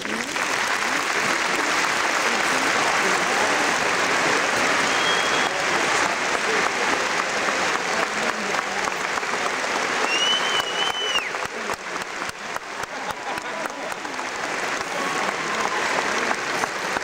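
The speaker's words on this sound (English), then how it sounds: "Graduates, let's give them a round of applause." Sustained audience applause fills a graduation ceremony, dense steady clapping from a large crowd, loud and continuous throughout with no pauses.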